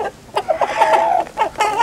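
A rooster clucks close by on a farm, a burst of rapid throaty calls and squawks, loud and near with no talking.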